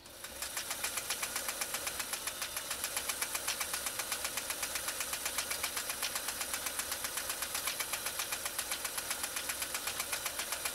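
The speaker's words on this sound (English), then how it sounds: "And the little sound you hear is the spool on top of the machine." A restored Pfaff 339 sewing machine stitches steadily at an even, rapid rhythm throughout, while the thread spool on top hops with a faint repeated ticking layered over the motor's hum.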